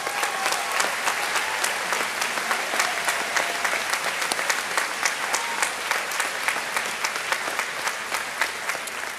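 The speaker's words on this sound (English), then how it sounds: "let's give them another big round of applause" Steady applause from a graduation audience at Libertyville High School's 2021 ceremony, a dense, continuous wash of clapping that runs through the whole stretch without talk.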